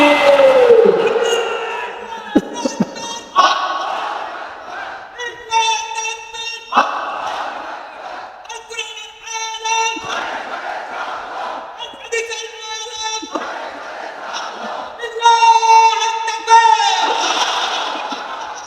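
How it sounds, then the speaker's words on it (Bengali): A crowd at a Bangladeshi Islamic sermon gathering shouts takbir in loud unison responses, repeated bursts of massed voices rising and falling several times across the clip. "দেখি লিল্লাহি তাকবীর"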